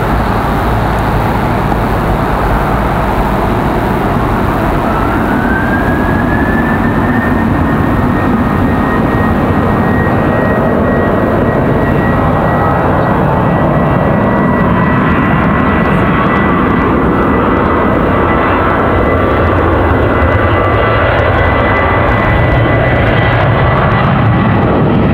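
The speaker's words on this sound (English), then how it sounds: "The American 777 starting up over on the other side." American Airlines Boeing 777 jet engines spooling up at Raleigh-Durham airport, a steady broadband roar with a rising whine settling into a sustained tone, heard from a distance and continuous throughout.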